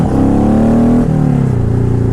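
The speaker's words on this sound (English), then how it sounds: "I hit the rev limit back there." A Honda VTX 1800 motorcycle engine revs hard to the rev limit, a loud close-up roar that holds, bounces off the limiter and drops as the throttle eases.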